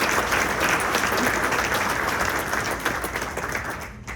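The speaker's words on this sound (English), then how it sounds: "So a round of applause to all of you who are here." Sustained applause from the audience at a CORONA ELR graduation ceremony honoring the supporters in attendance, a dense steady wash of many hands clapping for the whole stretch before tapering off at the end.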